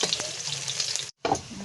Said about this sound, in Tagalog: Ito po ay gigisahin ko na may satanghon,